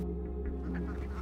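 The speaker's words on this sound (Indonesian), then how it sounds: "Salah satunya adalah dengan memelihara bebek." Domestic ducks kept in a yard near a reservoir in Indonesia quack and honk in a steady, dense chorus, several birds calling close by over a constant background hum.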